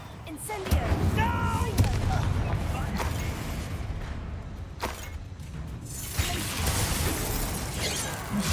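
A fiery spell crackles and bursts amid combat in Hogwarts Legacy on PC, with loud whooshing blasts and shattering impacts layered under other game noise and a voice calling out.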